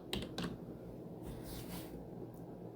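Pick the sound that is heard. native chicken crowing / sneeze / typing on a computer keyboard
typing on a computer keyboard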